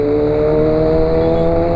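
A Honda CB 1000R motorcycle fitted with a 4-into-1 exhaust revs close by, a loud, sustained buzzing engine note holding steady, with no talk.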